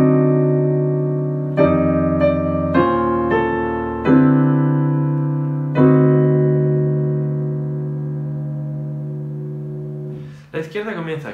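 A piano plays the second part of Jingle Bells as a handful of struck chords that ring and decay slowly, played alone and close, with a short fumble of notes at the end.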